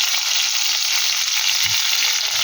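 Cauliflower florets fry with salt in a pan for a vegetarian phulkopi dish, giving a steady, close, loud sizzle that holds unbroken throughout with faint low stirring knocks.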